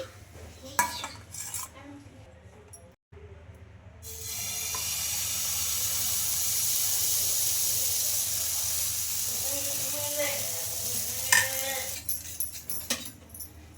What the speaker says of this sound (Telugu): ఇలా రెండు వైపులా బాగా కాల్చేసుకొని ఇంకా ప్లేట్లో అయితే పెట్టేసుకోవాలి